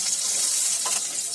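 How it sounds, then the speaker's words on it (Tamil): Mustard seeds and urad dal fry in hot oil, giving a continuous bright hiss and crackle that stays close and steady throughout, with no voices. "கடுகு உளுந்தம்பருப்பு நல்லா பொரியட்டும்."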